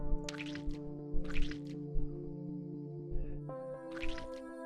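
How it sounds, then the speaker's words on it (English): Blood drains through a tube during an embalming step in the game A Mortician's Tale, heard as repeated short wet drips and squishes over a sustained musical tone. "You're going to need a tube for draining the blood."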